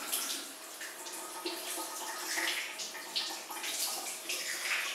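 Water runs from a tap over the twin screw of a Slowstar juicer as it is rinsed, a soft continuous splashing hiss with small fluctuations, quiet and without talk.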